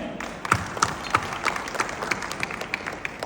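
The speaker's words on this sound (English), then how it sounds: "So a big applause for your own self." Audience applause at an evening celebration, a spread of individual claps scattered across the crowd, fairly close and moderately loud, with a few sharper hand claps standing out.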